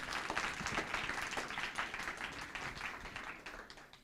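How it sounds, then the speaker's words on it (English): At a birthday celebration, an audience claps after a performance, a fairly close, uneven patter of many hands with individual claps standing out, gradually thinning as it goes on. "Can I have another round of applause?"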